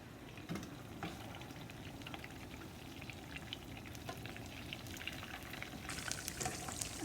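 Shrimp toasts, just flipped, fry in grease with a soft, steady sizzle and faint crackles that hold at a low, even level throughout.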